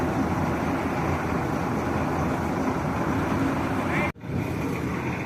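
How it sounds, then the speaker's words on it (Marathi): A combine harvester engine runs in a farm field with a loud, steady drone that continues without a break, cuts out sharply near the end and then returns. "त्याच्या आधी आम्ही ते चालू करून बघितलं"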